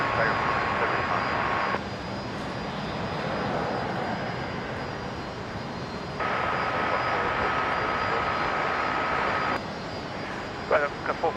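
A Qantas jet takes off from runway 19 right at Brisbane International Airport, a steady, loud engine roar that holds for the whole stretch. Voices can be heard faintly over the noise.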